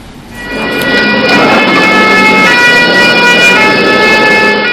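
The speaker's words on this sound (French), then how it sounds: "Chaque jour que Dieu fait, la sirène ne cesse de retentir." Fire engine siren from a Chad fire brigade wailing loudly and continuously, with steady sustained tones and traffic rumble underneath, rising in from a quieter start.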